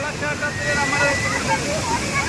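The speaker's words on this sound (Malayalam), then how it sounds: "അപ്പോൾ നല്ല ഹെവി ആയിട്ട് വെള്ളം വന്നു" Heavy water rushes at Malampuzha, a dense continuous roar with a voice speaking over it and some crowd-like babble.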